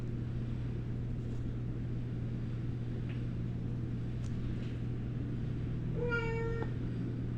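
A cat meows once in a short rising series of calls near the end, over a steady low hum and quiet room background.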